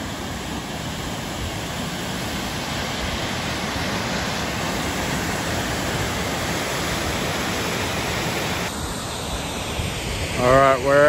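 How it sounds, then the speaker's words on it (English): Sycamore Falls in Arizona roars as a steady, loud rush of falling water close by, unbroken throughout, with a brief voice over it near the end. "we're at the third and final waterfall"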